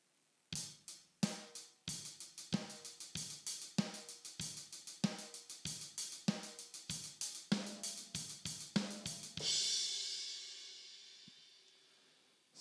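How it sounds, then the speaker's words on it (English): A steady rock beat on an Alesis DM10 electronic drum kit, rapid even sixteenth-note hi-hat strokes over kick and snare, ending on a crash cymbal that rings out and fades. "that will be playing 16 notes in a bar on the hi-hat"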